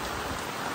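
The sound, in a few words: sudden rain falling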